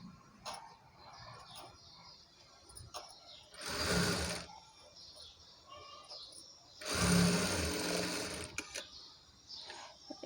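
A sewing machine runs in two loud bursts of stitching, about a second and two seconds long, as a neckline seam is sewn on an umbrella frock made from a saree. Quieter workshop noise fills the gaps between the bursts.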